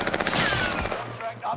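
Automatic gunfire crackles in a Call of Duty: Warzone match on PS5, a loud burst of rapid shots mixed with in-game effects over about a second and a half.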